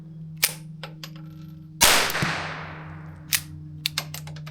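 A Ruger MK IV pistol fires several sharp, loud shots at close range, one report standing out with a long ringing decay, amid a steady background hum.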